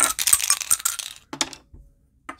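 Dice for an APBA baseball board game clatter in a quick rattling burst, followed by a few separate light knocks as they settle, close and clear with no talk.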